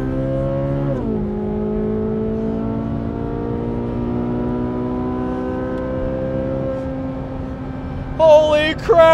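Corvette Z06 pace car with a flat-plane crank V8 accelerating around the Indianapolis Motor Speedway at high speed, a steady loud rising engine drone heard from inside the cabin, with a brief burst of excited voices near the end.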